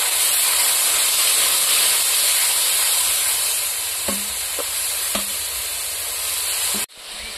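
Ground spice paste and a splash of spice-rinsing water fry in a pan for a village-style fish and cabbage red curry, giving a loud, even hiss with a few utensil taps before an abrupt break.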